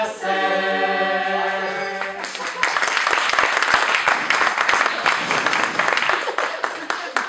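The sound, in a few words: applause for a 20th birthday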